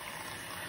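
Tap water gushes steadily into a sink as a balloon fills, a close, continuous broadband rush with no pauses.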